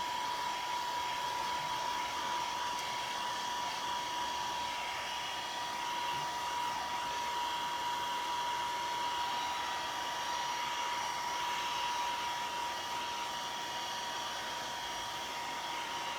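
A heat tool runs steadily and loudly for the whole stretch, a constant whooshing blower with a thin whine, drying modeling paste on a craft project.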